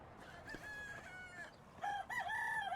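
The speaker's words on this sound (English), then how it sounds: "And of course, I need chickens." Chickens at a farmstead coop in the medieval-era game Medieval Dynasty cluck and call with bright, rising, crowing-like tones, fairly close and clear, the calls growing louder toward the end.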